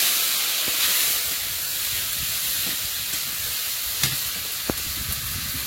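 Chopped tomato and spices hit hot oil in a wok, alongside black cumin, bay leaf and garlic and ginger paste, giving a loud, steady sizzle and hiss with a few sharp pops and spatters from the pan.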